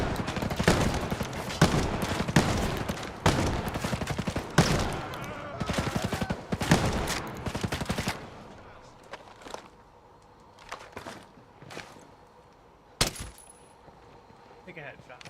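Dense bursts of automatic gunfire in the shooter game Ghost Recon Breakpoint, loud and rapid for about eight seconds, then scattered fainter shots and a single sharp crack, with voices talking over the action.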